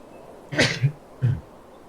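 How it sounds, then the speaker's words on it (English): A single close sneeze with a sharp burst, followed by a short sniff or throat sound in an otherwise quiet room. "Sorry, I had to sneeze."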